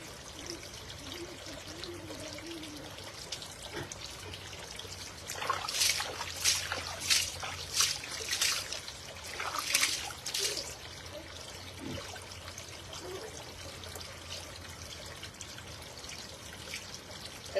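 Water is poured in a salon-style hair wash, with a splashing, trickling stream swelling for several seconds in the middle before easing back to a quiet background.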